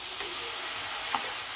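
Maida flour toasting in a hot pan gives a steady, soft sizzling hiss with a faint scrape or stir near the end, and no one speaks.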